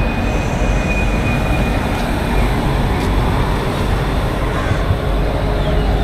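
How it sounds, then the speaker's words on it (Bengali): The 12041 Howrah–NJP Shatabdi Express pulling away, a loud, steady rumble of wheels on rails with a faint high squeal running through it, heard up close from on board with no talk. "যথা সময় ছাড়লো 12041 হাওড়া এনজিপি শতাব্দী এক্সপ্রেস"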